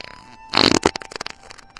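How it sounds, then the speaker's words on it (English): A short, sputtering fart bursts out near the mic, followed by a few small popping squeaks trailing off. "I hope that was a fart."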